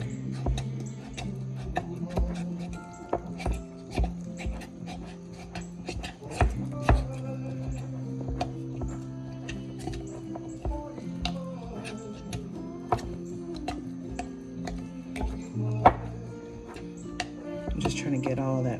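A utensil stirs flour into sourdough starter in a glass jar, giving a run of sharp clicking taps and scrapes at an uneven rhythm, with a person talking at times.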